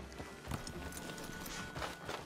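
A horse's hooves clip-clop on the ground in the video game Red Dead Redemption 2, a quiet, uneven series of hoof strikes moving off at a moderate pace, alone without speech.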